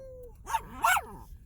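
A dog gives a couple of sharp barks and yips, close and moderately loud, after a brief whine, with some faint voices nearby.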